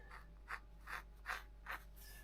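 Pencil marking a cut line on a Mirror dinghy hull under repair, heard as about five soft, rhythmic scratching strokes, close and fairly quiet, with no talk.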